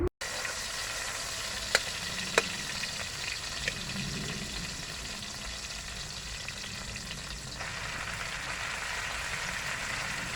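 Bitter gourd leaves sautéing in a pan hiss with a steady, soft sizzle, punctuated by a few faint clicks of stirring, with no talk.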